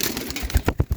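Rooftop pigeons coo in a few low, soft pulses late in the moment, close by over a faint background hiss, with no voices.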